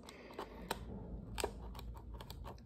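Several quick, crisp snips of scissors cutting through toy box packaging, close and fairly quiet, in an uneven rhythm.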